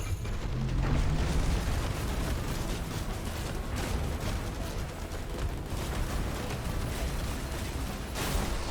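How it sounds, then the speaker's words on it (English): Sustained roaring rumble of a large explosion in the mech combat game Phantom Brigade, a loud, dense blast that holds steady for several seconds with crackling debris, and a fresh burst near the end. "Brighter than the sun, everybody. That explosion just starting."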